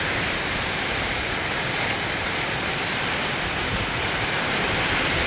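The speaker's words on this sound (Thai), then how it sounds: "ฝนมาแล้วครับ" Rain falls steadily in a dense, even hiss that fills the whole stretch without a break.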